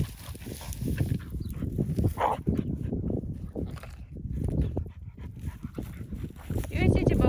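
A dog pants and whimpers close by, breathy rapid panting with a few high whines running through several seconds, mixed with people talking outdoors.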